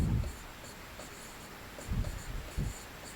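Marker strokes on a classroom board during an English grammar lesson, a few soft scratchy bursts at the start and again near the end, close and fairly quiet with no talking.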